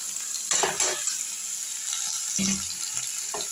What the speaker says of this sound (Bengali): দিয়ে এইগুলোকে একটু ভেজে নেব।